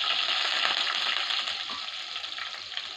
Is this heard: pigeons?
no